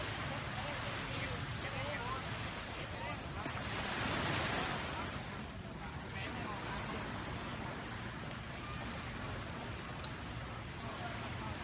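Surf rolls continuously onto a busy, popular beach in Thailand, a steady wash of waves mixed with wind buffeting the microphone, with one brief swell of louder breaking water.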